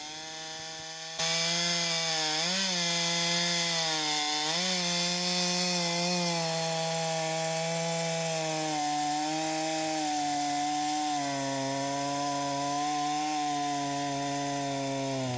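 A chainsaw roars loudly and steadily, its engine pitch dipping and rising as it bites into storm-damaged wood, running nonstop after a brief start.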